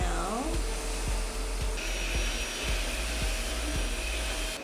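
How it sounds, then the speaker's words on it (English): A quiet household vacuum cleaner runs steadily indoors, sucking up dog hair with a continuous low whir and a faint rhythmic pulsing beneath it. "it really does the trick for dog hair especially. It also doesn't look ugly compared to some other vacuums"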